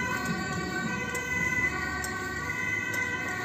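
Ambulance siren on a street in Rotterdam, a steady wailing tone sounding continuously at moderate distance over road traffic noise, with no talking.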